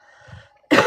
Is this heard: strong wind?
no